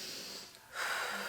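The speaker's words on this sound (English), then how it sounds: "inhale" A woman draws a quick, audible breath in through the nose during a standing core exercise, a short sniffing inhale close to the mic.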